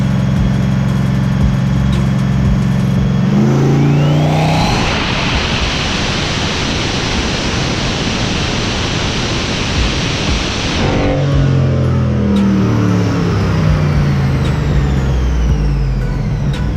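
A turbocharged 6.0L engine in a 240SX on a dyno climbs from idle into a loud sustained roar with the boost turned up, holding hard for several seconds before dropping back to a rumbling idle.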